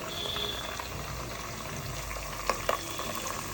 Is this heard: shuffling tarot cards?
no